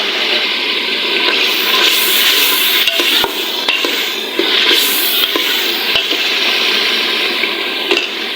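Tomatoes added to ginger-garlic paste in a hot pan, sizzling and hissing loudly and steadily, with a few sharp clicks of a spoon against the pan and no talking.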